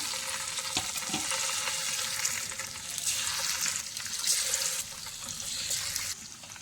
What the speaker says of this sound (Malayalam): എണ്ണ ചൂടായി. അതിലേക്ക് നമുക്ക് ഓരോ മീൻ കഷ്ണങ്ങളും പറക്കി ഇട്ട് കൊടുക്കാം.